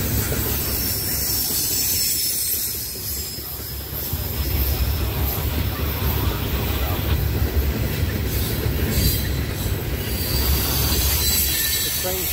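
CSX N780 freight train, including Conrail coal hoppers, accelerating on rails: a loud, continuous rumble and roar of wheels and cars with hiss and faint squeal, building slightly in intensity, no talk.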